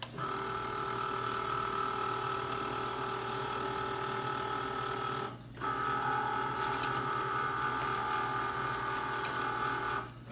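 A vinyl cutting machine feeds a cutting mat through its rollers for heat transfer vinyl, a steady mechanical whir with ratcheting gear clicks, briefly pausing midway before resuming, close and alone.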